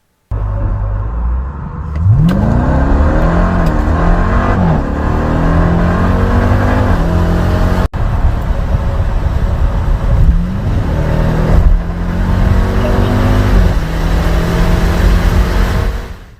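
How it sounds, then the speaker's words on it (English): A 2023 Dodge Durango SUV engine revving hard through rising and falling sweeps, with a throaty tuned exhaust note, loud and close, with a brief cut near the middle and no talking. "The exhaust system is tuned to deliver a throaty Dodge sound"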